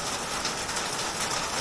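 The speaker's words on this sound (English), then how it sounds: "that's hail now." Hail pours down steadily outdoors, a dense, even hiss of pelting ice with no pauses, close and fairly loud throughout.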